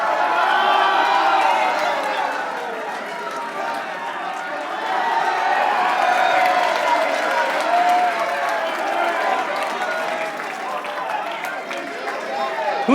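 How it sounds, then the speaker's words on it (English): A crowd cheers and claps steadily for several seconds at a live memory-training event, the broad roar of voices and hands holding at a fairly loud, even level with shouts rising through it. "Go! Cheer!"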